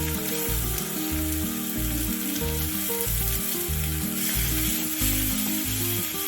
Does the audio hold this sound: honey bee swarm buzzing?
no